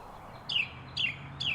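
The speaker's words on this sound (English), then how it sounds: "This is a purple finch." A purple finch gives three short, bright descending chirps at a steady, evenly spaced rhythm, clear and close over a faint low background hum.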